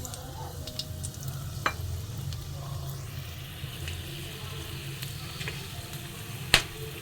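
Dried red chillies, split cardamom, black peppercorns, cloves and cinnamon sizzle steadily in hot oil at close range, a continuous crackling fry with a few sharp pops, no talking.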